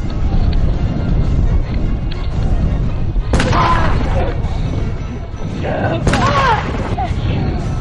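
A Civil War reenactment rifle volley of 1862 era muskets goes off as two loud, sharp blasts a few seconds apart, each ringing briefly, amid heavy wind noise and shouting voices.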